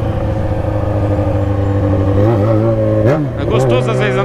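Yamaha XJ6 motorcycle engine running loud and steady while riding through a town, with pitch sweeps at about 2.3 and 3.1 seconds as the throttle is blipped and revved.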